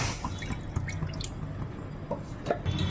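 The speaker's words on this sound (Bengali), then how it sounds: "আমি একটা কড়া বসিয়ে দিয়েছি গ্যাসে, তাতে আমি জল দিচ্ছি।" Water poured from a vessel into a wok on a gas stove, heard as close splashing and dripping with small droplet plinks, fairly quiet and steady for a few seconds with no talking.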